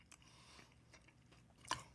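Crunchy fried bourbon chicken from Panda Express bitten once, a short sharp crunch near the end, close up and alone, after faint quiet chewing.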